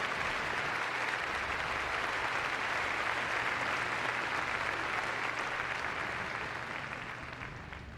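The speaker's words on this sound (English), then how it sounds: "And I think that deserves a little bit of a round of applause" A large crowd applauds in an indoor arena after an RAF dog display at Crufts 2014, with dense, sustained clapping that stays even for several seconds before slowly tapering off.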